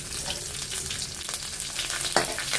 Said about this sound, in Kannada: ಚೆನ್ನಾಗಿ ಫ್ರೈ ಆಗಬೇಕು